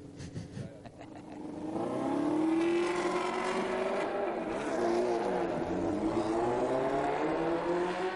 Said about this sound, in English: even at the starting line, their engine is sounding a bit unhealthy. It's getting too much air.